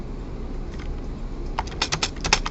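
Computer keyboard typed on during note editing, starting with a few scattered keystrokes and then a quick burst of clicking taps, close and clear with no talk over it.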